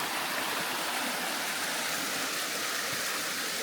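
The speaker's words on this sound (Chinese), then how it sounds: "欧村瀑布啊。" Oucun waterfall deep in the Guizhou mountains during the dry season, a continuous broadband rush of falling water, steady and fairly close, with no voices over it.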